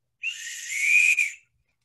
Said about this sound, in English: Whistle, very important.